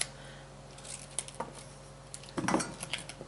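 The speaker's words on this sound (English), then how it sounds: "I'm gonna cut up some green squash." Green squash is cut up with a knife on a kitchen board, giving faint, scattered taps and a short cluster of clinking chops near the mic in an otherwise quiet room.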